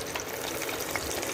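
Beer-battered shrimp sizzle steadily in hot oil, a dense, even crackle with a few brighter pops, close and moderately loud with no voices.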